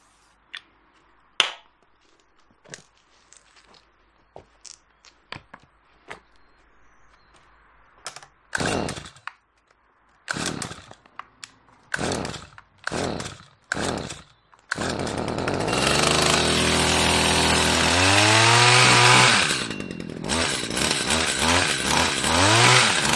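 A small engine, primed with Start Pilot starting fluid, gives a series of sharp pull-start bursts, then catches and roars into a loud, steady run with rising and falling revs.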